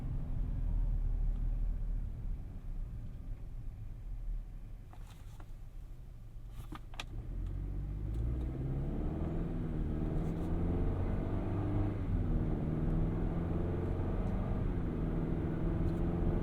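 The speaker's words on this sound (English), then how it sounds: "There's a little more engine noise." Steady low engine rumble from inside a moving 2023 Chevrolet Colorado WT pickup truck, continuous throughout, with faint clicks and a rising drone as the engine works.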